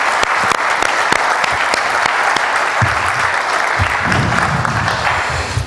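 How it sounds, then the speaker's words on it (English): Sustained applause from a conference audience at a European standardization event in Romania, dense steady clapping throughout with a few sharper claps early and a low murmur of voices underneath in the second half. "ask for a round of applause"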